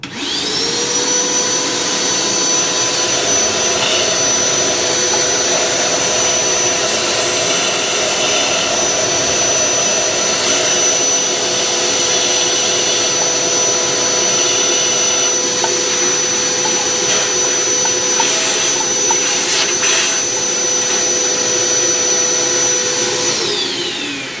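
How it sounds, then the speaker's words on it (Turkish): A loud, steady wet vacuum motor whine roars continuously at close range, a high-pitched drone with no talking, drawing up excess water during combi boiler maintenance. "makineniz sulu süpürge ise buraya bu şekilde tutup buradaki fazla suyu alabilirsiniz"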